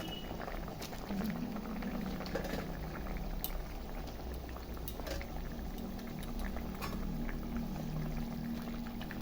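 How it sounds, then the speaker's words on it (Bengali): Fish curry broth with potato and tomato simmers at a steady, soft bubbling boil, with faint splashes and a light clink as fish pieces drop into the pot. "দেখো বন্ধুরা আমার মাছের ঝোলটা ফুটে গেছে, এখন মাছগুলো আমি ছেড়ে দিচ্ছি"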